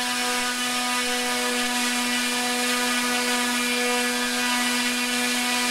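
A brushless electric motor on a dyno runs at full throttle, near 7450 RPM on a LiPo pack, giving a loud, steady, high-pitched whine with a constant hum beneath it that holds unchanged throughout.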